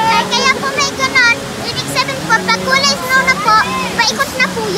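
The strong flow of Maapon Falls, a constant rushing waterfall roar that runs under nearly continuous talking, with voices in the foreground.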